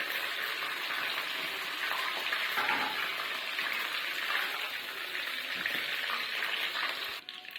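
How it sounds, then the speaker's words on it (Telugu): Chicken pieces lightly shallow-frying in a little oil for a dhaba-style chicken gravy, a steady, close hiss and crackle of sizzling that holds evenly, then thins out right at the end. "కొద్దిగా వేసుకొని ఫ్రై చేసుకుందాము. మరి డీప్ ఫ్రై కాదండి, లైట్గా వేయించుకుంటే సరిపోతుంది"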